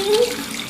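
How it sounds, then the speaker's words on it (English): Water running from a tap to rinse a paint spray gun, a short close splashing rush with a faint voice briefly in the background. "Rinse it out till it runs clean."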